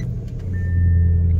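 A car engine cranks and catches, settling into a loud, low rumbling run close by, with a thin whine appearing as it starts.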